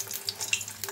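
Pointed gourds stuffed with shrimp fry in a pan, giving a faint, soft sizzle with a few scattered small crackles and pops, quiet and with no one talking.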